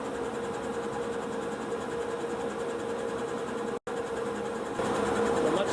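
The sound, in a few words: exhaust fan running in laser engraving shop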